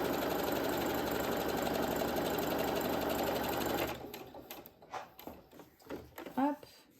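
A sewing machine stitches fabric for a patchwork pouch with a loud, steady mechanical whir that stops abruptly after about four seconds, followed by quiet talk.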